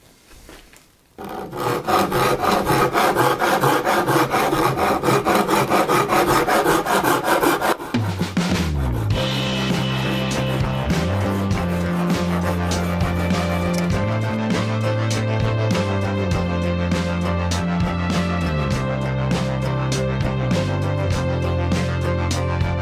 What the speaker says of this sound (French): avec une râpe à bois, on va venir rejoindre le trait qu'on a tracé sur le dessus avec le trait du côté du manche